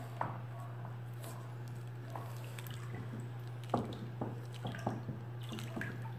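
Homemade soap made from cooking oil being stirred by hand, with soft wet squishing, dripping and sloshing sounds in an irregular rhythm over a steady low hum.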